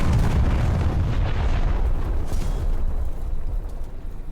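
Bomb explosions in the War Thunder combat game, a dense, loud, rumbling blast that rolls on continuously and slowly fades over a few seconds.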